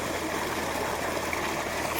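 Cold water running in a stream, a steady broadband rush heard close by and continuously, with no one talking.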